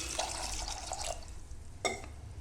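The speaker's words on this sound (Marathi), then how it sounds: "आता मी आपण टाकूया पाणी" Water running and splashing onto soaked chickpeas in a pressure cooker, a steady pour with a brief louder splash near the end.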